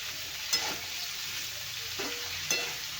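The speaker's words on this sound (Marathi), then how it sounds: "आता याला छानपैकी भाजून घ्यायचं आहे व्यवस्थित तेलामध्ये" Diced carrot and beetroot fry in hot oil with a steady, moderate sizzle, broken by a couple of brief stirring scrapes.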